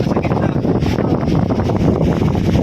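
Strong gusts buffet the microphone in a loud, close, continuous roar with low rumbling and fluctuating bursts, no voices standing out over it.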